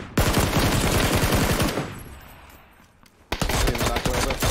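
Rapid automatic gunfire in PUBG, loud and close, a dense burst that fades into a lull before another sharp volley resumes.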